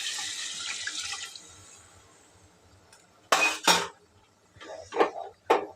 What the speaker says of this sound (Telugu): తగినన్ని నీళ్ళు ముక్క మునిగేలాగా నీళ్ళు పోసేస్తున్నా